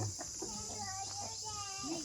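Chickens in a rural farm field, quiet soft clucking calls scattered across a couple of seconds, with faint background noise and a little talk.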